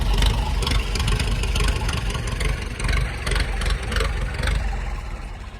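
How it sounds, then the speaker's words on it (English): A little grey Ferguson tractor engine idles at a rally, a steady low rumbling chug held evenly throughout, close and fairly loud, with faint background noise from the show. "And my favourite tractor. Love these little things. Grey Fergies."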